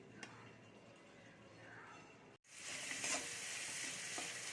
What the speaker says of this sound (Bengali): এবারে সবজিটা ভেজে মিশিয়ে দেব।